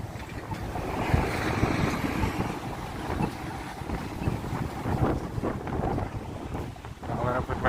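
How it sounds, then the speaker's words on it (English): Strong outdoor wind buffets the microphone on a New York City street, a constant heavy low rumble with gusty surges that swell and fade throughout, nearby and loud, with no talking. "Boy, look at the wind."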